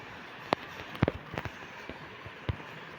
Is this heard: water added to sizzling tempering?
no